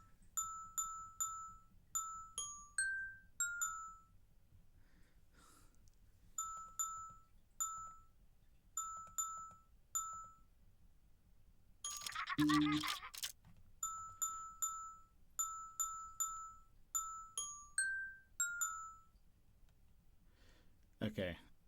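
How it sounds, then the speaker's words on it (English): Repeating bright jingling chime phrases from the Chicken Police video game, clear and steady in short patterned bursts, broken by a brief louder thump and rustle midway, with low background hum throughout. "What I hear jingle bells also."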